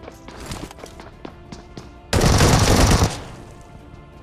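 A burst of shotgun gunfire from a BGMI match, a dense loud blast lasting about a second after several lighter thumps and clicks of in-game movement.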